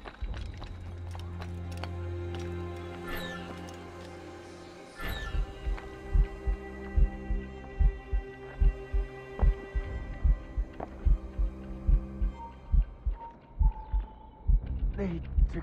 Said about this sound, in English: Keeps my heart beating.